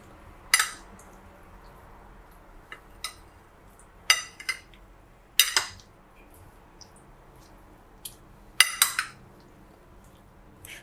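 A spoon clinking and scraping against a bowl while fruit chaat is tossed with tamarind, sharp, scattered knocks in small clusters over quiet background, with no talking.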